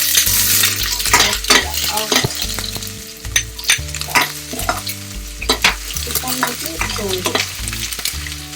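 Cumin and onion frying loudly in a pan for South Indian sambar, a dense close sizzle broken by repeated scraping and stirring strokes of a spoon against the pot, no voices.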